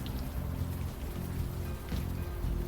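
Steady rain ambience from the game Unavowed, a dense even patter filling the short stretch alone, with no voices over it.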